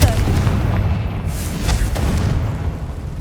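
A Confringo blasting spell from the video game Hogwarts Legacy bursts loudly at the start, followed by a dense rumbling blast that trails off with a second softer burst and lingering low noise; no speech.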